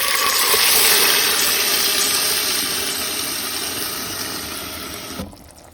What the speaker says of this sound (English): Now I'm going to add the chickpeas mixture.